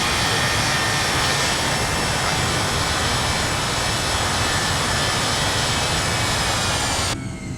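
A simulated Airbus A320ceo with sharklets lands, its jet engines a loud, steady, broadband roar that fills the whole stretch before dropping off abruptly just before the end.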